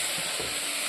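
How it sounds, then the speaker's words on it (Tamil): Beans and carrots sauté in a hot pan for sambar, giving a steady close sizzle and hiss with a few soft stirring knocks and no talking. "பீன்ஸ் கேரட்டையும் போட்டு ஒரு வதக்கிட்டு"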